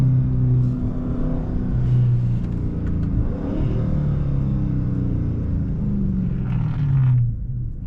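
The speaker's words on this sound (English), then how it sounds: "this car sounds so good with an oil change" A Dodge Challenger Last Call Scat Pack, recently crashed, rumbles and revs nearby, its deep exhaust note rising and falling in a few blips over a steady idle, with no talking.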